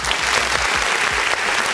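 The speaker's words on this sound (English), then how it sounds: "that applause track was clean in the mud" A steady burst of recorded applause from an effect track, dense clapping filling the whole moment at an even, loud level with no pause.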